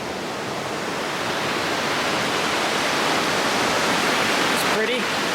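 The Eau Claire River rushes steadily as a hiker crosses it on a trail, a dense, even roar of flowing water that stays close and loud throughout.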